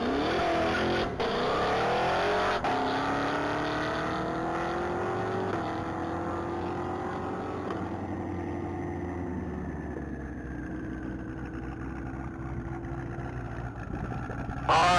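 A blue 2014 Cadillac CTS-V accelerating hard down the Texas Mile, a loud close engine roar climbing in pitch through several gear shifts, continuous over about fifteen seconds, no talk.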